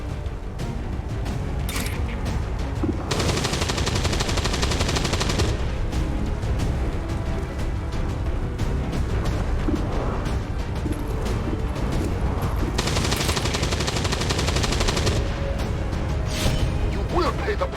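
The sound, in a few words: gunfire in the video game XCOM 2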